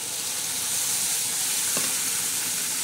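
Red chili powder and turmeric hitting hot oil in a pan make a steady, close sizzle of frying spices, with one brief clink partway through and no talking.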